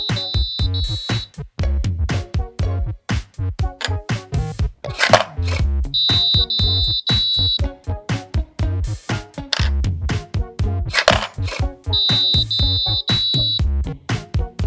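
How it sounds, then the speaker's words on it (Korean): A coding-kit board buzzer in an automatic coin bank sounds a bright electronic ding-dong chime three times at regular intervals, ringing out over a busy backdrop of rhythmic clicking and clinking. "동전이 들어감과 동시에 보드의 부저에서 딩동댕 소리가 납니다"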